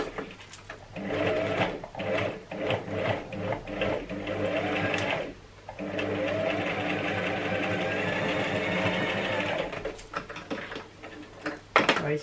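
A sewing machine stitches an elastic headband in close, loud bursts of rapid needle chatter, stopping and starting several times with brief quiet gaps between runs.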